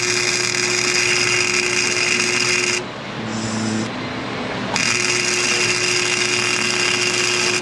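A welder crackles and buzzes steadily onto a broken, rusted exhaust stud, close and continuous apart from a brief pause of about two seconds midway, with no talking.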